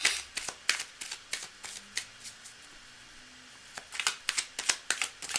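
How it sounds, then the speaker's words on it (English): Tarot cards being shuffled by hand in quick bursts of crisp riffling snaps, with a pause in the middle before the shuffling resumes, close and alone. "I'm going to do a couple more moments of shuffling here."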